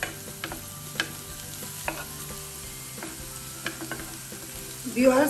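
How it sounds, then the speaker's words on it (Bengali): Onion frying in oil until brown, a low steady sizzle broken by occasional spatula clicks and scrapes, close by, swelling louder near the end, with no talking. "পেঁয়াজটাকে একটু ব্রাউন কালার করে নিলাম"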